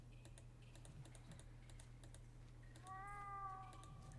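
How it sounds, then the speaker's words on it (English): A cat meows once, clear and drawn out, in the point-and-click horror game The Last Door, following a stretch of keyboard typing and a low steady hum. "That's a kitty."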